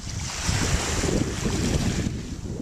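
Ocean surf washing onto a cold beach, a steady broadband rush of waves mixed with wind buffeting the microphone, continuous and fairly loud with no voices.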